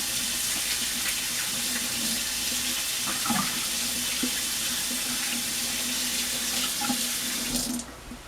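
Kitchen sink tap running steadily for rinsing floury hands while kneading pizza bun dough, a continuous close splashing hiss that cuts off near the end.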